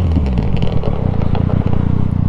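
A motorcycle engine runs loud and close, its low rumble steady and rough with some mechanical clatter, on a morning highway ride.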